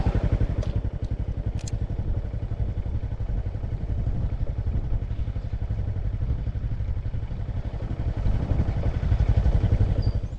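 Motorcycle ridden along a roadside canal in Thailand, its engine running steadily at close range with a constant chattering mechanical clatter and wind buffeting throughout.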